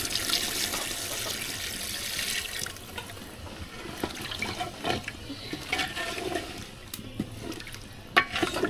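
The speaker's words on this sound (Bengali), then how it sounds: "এবার রান্না হওয়ার জন্য দিয়ে দেবো একটু পানি।" Water poured into a pot of chicken and potatoes for chicken biryani, a steady splashing and gurgling pour that runs continuously at close range, thinning out toward the end, with no talking.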